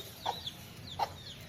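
Baby hens in Sivangangai give two soft, short clucking chirps about a second apart, faint and close against quiet background.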